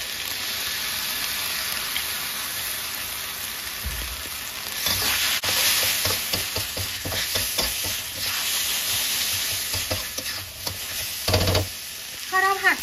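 Stink beans with minced pork stir-fried in a pan, a continuous sizzle with repeated scraping and tapping of a spatula against the pan, steady and close, with a brief splash-like burst late on.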